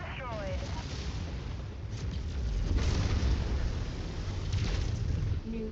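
A giant combat mech explodes in MechWarrior 5, a series of deep rumbling blasts and booming impacts swelling over a steady roar of game noise, with faint game voices at the start.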